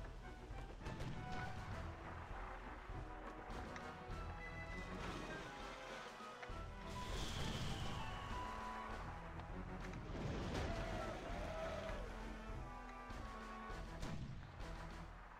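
Cannon fire in a naval battle in the video game Sid Meier's Pirates comes as repeated booming blasts and crashes. It plays under a continuous dense mix of game music and sea ambience at a steady level.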